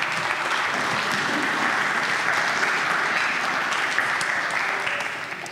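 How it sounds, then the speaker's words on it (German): An audience on a stage event applauds a first-place winner, sustained steady clapping at even loudness for several seconds, fading slightly at the end with no talk over it. "Ein Applaus für Kai."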